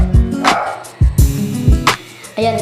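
Bowie, a pet dog, lets out a burst of loud, close barks: about half a dozen sharp woofs in quick, uneven succession, alone without talk.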